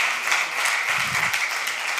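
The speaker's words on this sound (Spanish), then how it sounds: "Un aplauso para Fernando." Conference audience at a business sustainability summit applauds a speaker being introduced, a dense, steady patter of clapping held at even level throughout.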